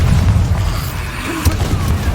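Bombarda explosion spell cast in a Hogwarts Legacy duel: loud heavy booms with a rumbling low end and a sharp crack partway through, over continuous battle noise.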